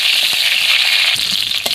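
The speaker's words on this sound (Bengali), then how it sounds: "আর এখানে ঝালের জন্য 3টে কাঁচা লঙ্কা চিড়ে নিয়েছি, কাঁচা লঙ্কা দেবো। এগুলো একটু ভালো করে ভেজে নেব।" Nigella seeds and slit green chilies fry in a pan, making a loud, steady hiss with a few crackling pops close by.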